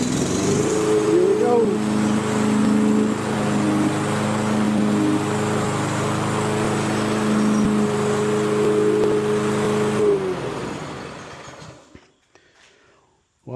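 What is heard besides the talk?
Toro lawn mower engine pull-started and running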